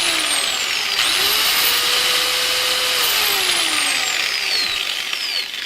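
A Harbor Freight Bandfile belt sander running on wood, a loud, steady high whine with shifting pitch as pressure changes, continuous and close.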